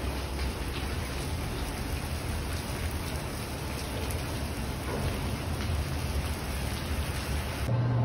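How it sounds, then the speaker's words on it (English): Steady rain falls outdoors during a stop on a mountain bike trip in Mammoth, making a dense, even hiss that holds at a constant level for the whole stretch with no voices. "We can't ride because it's raining outside"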